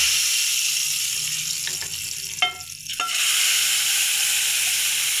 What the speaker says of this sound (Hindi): अब मैं इसमें डालूँगा दाल।